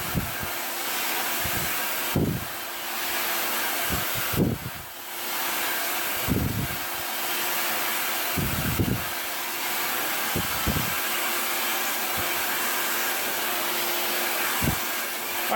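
A hair dryer blows steadily close by while hair is blow-dried into 1950s-style waves, its constant airy roar dipping briefly and recurring thumps punctuating it.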